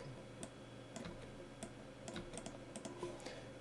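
Light clicking of computer keyboard keys in short irregular bursts of taps, faint and close over a quiet background hum.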